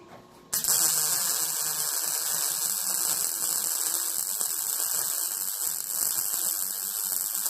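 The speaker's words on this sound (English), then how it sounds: "there's just something so nice about a good old MIG welder" A good old MIG welder runs a continuous weld bead, a steady loud crackling hiss with a hum that starts abruptly after a brief quiet moment and holds without pause to the end.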